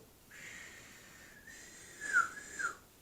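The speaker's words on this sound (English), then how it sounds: "out came a real whistle." A real whistle blown in the street scene of a children's story: a thin, steady whistling tone that lasts about two seconds, wavers and rises near the end, and sounds soft and alone.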